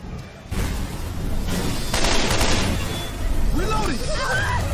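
Dense, continuous gunfire from the Left 4 Dead 2 video game, a steady barrage of shots filling the clip at close range and full loudness, with a voice speaking over the later part.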